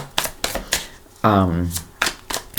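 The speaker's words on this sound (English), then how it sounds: "Let's go ahead and shuffle." A deck of tarot cards is shuffled in quick riffling bursts at close range, with a person talking between the shuffles.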